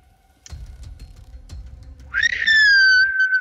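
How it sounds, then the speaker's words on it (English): A person whistles a short, clear rising-then-steady note, loud and close, following a few faint ticks and low rumbles. "I tried to whistle, and I messed it up."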